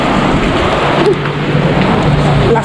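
Heavy rain falls steadily with a dense, continuous wash of drops close by, loud and unbroken, with faint human voices barely under it.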